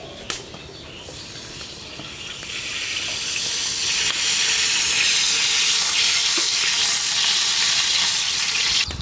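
Cooking oil sizzles and crackles in a large pot set up for mutton kosha, a steady hissing fry that swells slightly and then holds, close and fairly loud with no voices.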